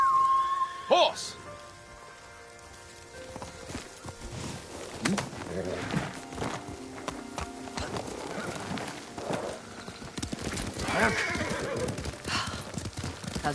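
Rhythmic hoof clip-clop of a horse on the move in Ghost of Tsushima, with whinnies and neighs at moments, over a busy game-style ambience with music and effects.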